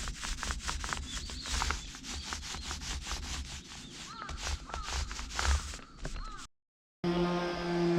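Steady, rhythmic rubbing strokes of sanding on timber frame posts continue close and loud, with short gritty passes repeating, and faint bird calls in the background before a brief cut to a different scene.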